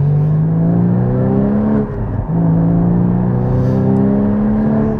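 A Porsche 981 GT4's engine and prominent exhaust hold a loud, steady, high drone, dip briefly as if off the throttle, then climb back to a sustained rev close by.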